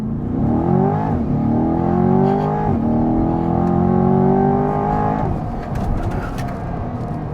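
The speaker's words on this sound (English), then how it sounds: "it revs, and away we go." A 2023 Chevrolet Corvette Stingray convertible launches in track mode, its engine revving hard and climbing through rising harmonic sweeps with quick shifts, loud and close, then easing into a rougher drone.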